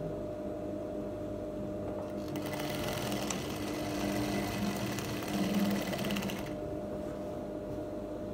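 A sewing machine stitches jumpsuit pieces together in a steady, rapid mechanical whir that runs for several seconds, starting and stopping with a low motor hum underneath, close and moderately loud.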